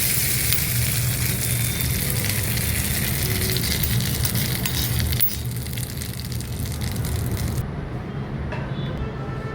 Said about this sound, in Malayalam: ഈ താളിച്ചത് ഈ ചട്ടിയിലേക്ക് ഒഴിക്കുന്നു.